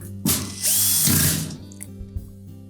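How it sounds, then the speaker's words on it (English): A power screwdriver drives screws into the subtop of a Whirlpool range, whirring in two bursts followed by a few soft clicks and taps, close and without talk. "We'll begin by installing the 3 screws across the front"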